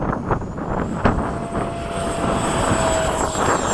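An E-flite Havoc RC jet fitted with a Gooniac balanced electric ducted fan flies past at a flying field, making a steady whooshing roar with a thin whine that swells slightly toward the end.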